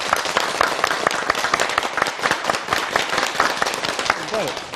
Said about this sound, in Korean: 지혜에 박수를 청해 듣겠습니다